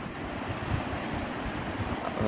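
Sea waves on a summer beach at a small German seaside town, heard as a steady broad wash of surf with low rumbling swells and some wind noise, without voices.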